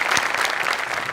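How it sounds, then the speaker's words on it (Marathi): Brief burst of loud audience applause at a Marathi comedy show, dense clapping filling the room throughout. "जोरदार टाळ्या."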